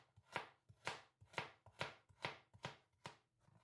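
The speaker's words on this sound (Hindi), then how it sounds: "और एक गाजर, इसे भी रफली चॉप कर लेंगे।" A knife roughly chopping carrot and onion on a cutting board while making Turkish lentil and vegetable soup, seven or eight steady, evenly spaced chops, close and clear, with no talking.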